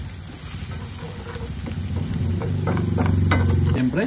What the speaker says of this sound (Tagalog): Mas matagal ginigisa ang bawang sibuyas.